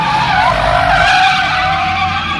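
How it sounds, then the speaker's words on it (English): London taxi drifting at a stunt show, tyres skidding in a loud continuous screech with a wavering pitch over a rumbling engine, heard close and sustained throughout. "Here we go with the London Taxi. He's drifting around."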